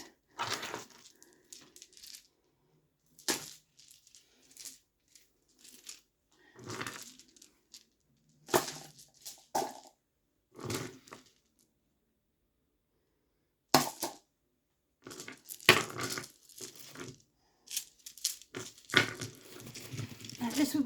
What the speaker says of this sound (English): Let me just quickly chuck these back in the box they came from